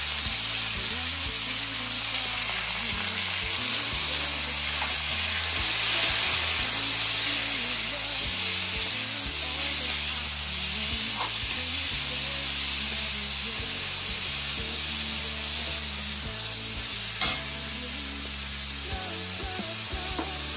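Tomatoes, green chillies and curry leaves fry in a pan with a steady, even sizzle and hiss, a soft clatter of stirring now and then and one sharper knock near the end.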